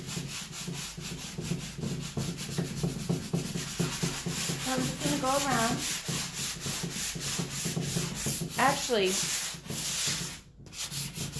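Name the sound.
sanding a painted surface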